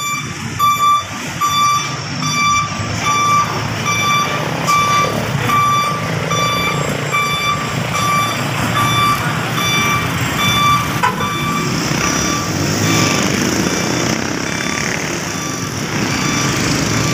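A truck reverses with a steady, evenly spaced electronic reversing beep sounding loudly over its rumbling engine, continuing for a long stretch before the beeping stops and the engine keeps running.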